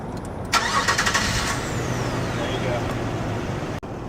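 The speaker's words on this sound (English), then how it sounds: "Put your foot on the brake and turn the key." A car engine cranks and catches, then settles into a steady idle, heard close with a brief clatter at the start.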